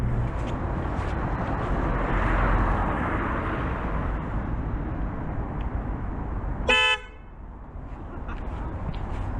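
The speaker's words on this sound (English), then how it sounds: "Amazing horn action." A 2022 BMW R1250 RT motorcycle horn gives one short, bright toot over steady road and engine rumble, after which the background noise drops noticeably.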